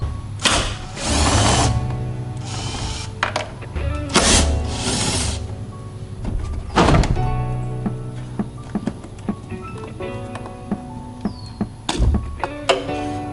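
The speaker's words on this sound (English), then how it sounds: "unplug the headlights and get these 2 10mm bolts off, and it should pop straight out" Hand ratchet working loose two 10mm headlight mounting bolts on a car, close up, with repeated clicking pawl bursts, metallic taps and thunks spread through the clip and no talking.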